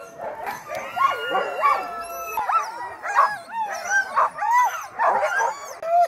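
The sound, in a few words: huskies barking and howling before sleigh ride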